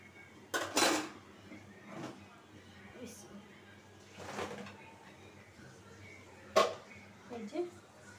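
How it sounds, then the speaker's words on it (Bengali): A new wok is set on a kitchen stove while preparing a prawn and taro curry, with several sharp metallic clanks and knocks of cookware spaced out over a quiet background. "এই যে আরেকটা কড়াই বসাই দিই"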